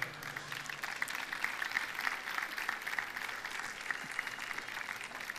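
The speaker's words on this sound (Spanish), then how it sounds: "Un aplauso para él" Sustained applause from a large crowd, dense and steady throughout, with no talking.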